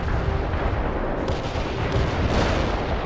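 Artillery strike in the video game World in Conflict, a dense continuous roar of rumbling blasts and booms, loud and heavy throughout with no pauses.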